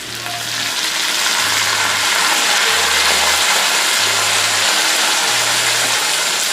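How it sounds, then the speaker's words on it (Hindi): Curry leaves sizzle in hot oil as a tempering for Hyderabadi khatti daal, added with the flame switched off, producing a continuous, close hissing crackle with a faint low hum underneath. "अच्छा, कड़ी पत्ता उड़ेगा। मैं हमेशा फ्लेम बंद करके डालती हूँ।"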